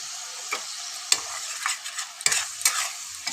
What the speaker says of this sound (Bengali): এই মশলাটাকে ভালো করে কষিয়ে নেব।